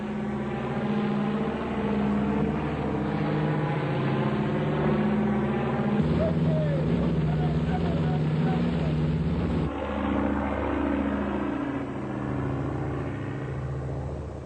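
An aeroplane passes overhead at low altitude as 30 French Foreign Legion paratroopers jump from it in tight formation, a loud, steady engine drone with a deep rumble that lasts throughout.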